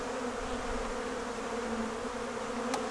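Honeybees swarm around an opened hive during an inspection, a dense continuous buzz close by and steady throughout with no break, one brief sharp tick near the end.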